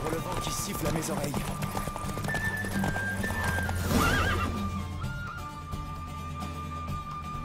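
A video game horse gallops with steady hoofbeats and lets out a loud neigh, while a voice talks over parts of it.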